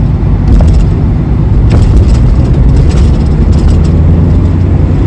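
Van engine droning steadily while driving in road traffic, a continuous low rumble with passing vehicle noise close around it and no talking.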